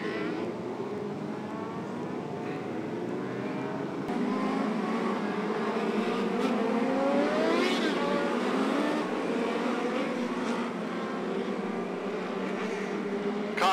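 Race cars circling a short track for a feature race, a steady, distant engine drone with rising and falling tones as the field passes, heard under a faint announcer voice.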